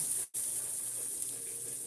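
Tap water runs steadily into a sink or pot while chili is being cooked, a soft continuous hiss broken by a brief drop near the start.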